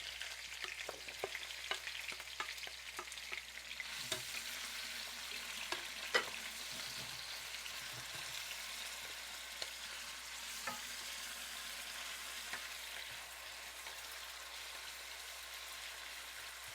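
Onion and tomato fry in a pan with a soft, continuous sizzle, as the base for ackee and saltfish. Scattered ticks and light scrapes from stirring come through, all fairly quiet and without voices.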